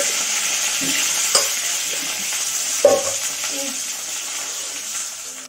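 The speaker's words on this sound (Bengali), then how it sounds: "আলুটা এখন ভাজবো" Cut potatoes frying in hot oil, giving a loud, steady close sizzle throughout with a couple of brief clinks and stirring bumps against the pan before it cuts off abruptly.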